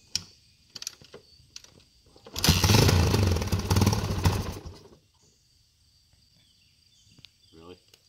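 A 1989 Yamaha XT350 motorcycle attempts a cold start after a night in a cold shed; the engine catches and runs roughly for a few seconds before cutting out, with scattered clicks and handling noises around it.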